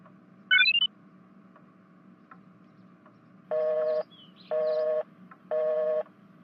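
Quick bursts of phone keypad tones as a number is dialed, then a pause and three evenly spaced, long electronic beeps that signal the call is not going through, all close and clear with no voices.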